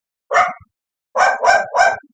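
A dog barks from upstairs indoors, one bark followed after a pause by a quick run of three, clear and fairly loud against silence.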